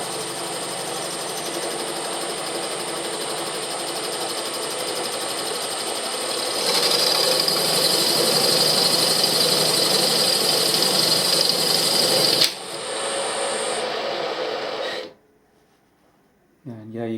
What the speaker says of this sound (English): I'm just barely beginning to skim the nuts now.